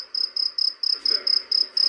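A cricket sound effect chirps steadily in a regular pulsing rhythm, eight even trills across the stretch, clear and close with no voices.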